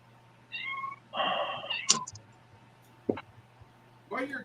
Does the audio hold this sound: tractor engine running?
no